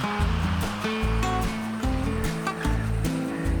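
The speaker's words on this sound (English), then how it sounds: "It's the Owyhee River." Owyhee River in the ranch country near Leslie Gulch, a steady broadband rush of flowing water heard alongside a loud, recurring low tonal pattern, with no voices.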